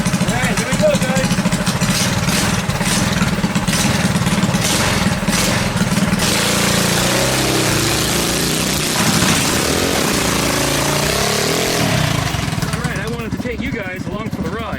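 A modified KT196 go-kart engine runs steadily and loud throughout, a buzzing small-engine drone with a rougher, shifting tone in the second half, while someone talks over it.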